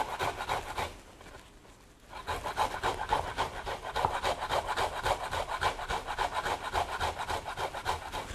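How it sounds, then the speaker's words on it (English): Fresh ginger with the skin on rubbed against a grater in steady, rapid rasping strokes, close and fairly loud, with a brief pause early on before the scraping resumes. "it's generally fine just to grate it with the skin on"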